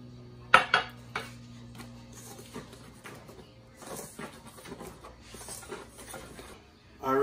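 A spoon clinks and scrapes against a bowl while Johnny cake batter is mixed, with a few sharp knocks early and softer intermittent scraping after, close and fairly quiet.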